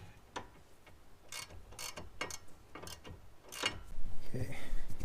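Ratcheting wrench clicks in bursts while tightening a front stabilizer link bolt on a Mazda 5, close and moderately loud, with a louder mechanical rattle near the end.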